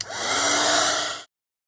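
A hair dryer blows steadily on an inked craft tag for just over a second, a loud even whoosh that cuts off abruptly.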